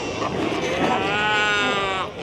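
A colony of Cape fur seals at Cape Cross Seal Reserve, Namibia, bleating and groaning in a thick sheep-like chorus, with one loud drawn-out call standing out close by over the steady din.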